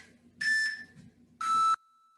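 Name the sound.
workout interval timer beeping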